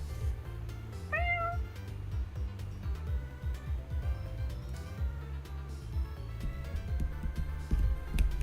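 A cat gives one short, clear meow early on, fairly close, over a quiet indoor background of faint tapping and low hum.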